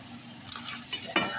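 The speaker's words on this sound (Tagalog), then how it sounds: "Tapos, haluin na natin siya." Chicken fried rice with mixed vegetables stirred in a pan, giving soft scraping and a light sizzle, with a sharper spatula scrape near the end of a short moment.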